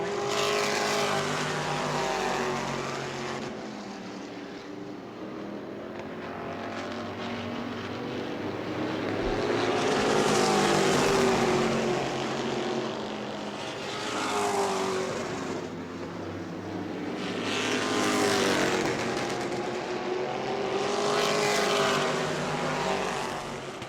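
Race cars circle the track at New Smyrna, engines roaring loud and sustained, swelling and fading in repeated passes as the pack sweeps by, no voices.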